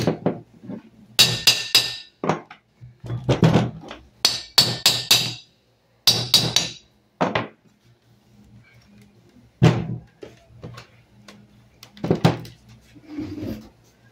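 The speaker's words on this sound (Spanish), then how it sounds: "le voy a dar unos golpecitos con un martillo a ver si de pronto responde" Sharp metallic hammer taps in short clusters on a seized Samsung three-phase inverter compressor, close and loud, separated by quiet pauses with a low steady hum beneath.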